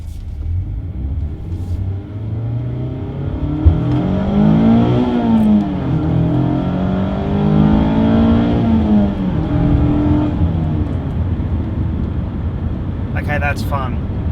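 An ND2 Mazda MX-5 engine climbing through the revs toward redline, a loud, close rising and falling engine note that builds, eases off and surges again over about ten seconds, with some rumble underneath.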